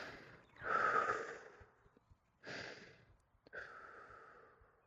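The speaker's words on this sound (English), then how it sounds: "breathing 6 times, in through the nose," Breathing in through the nose during a relaxation exercise, three soft, close breaths with pauses between, the first the loudest, heard alone.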